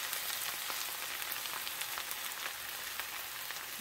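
Flour cooking in a cast iron skillet gives a steady, soft sizzle and crackle throughout, fairly faint and with no talking.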